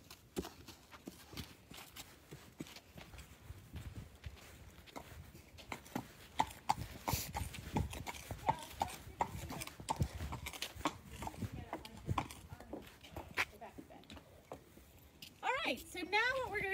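A horse's hooves clip-clopping as it is led away, irregular steps over several seconds with faint background noise and brief speech-like sounds near the end.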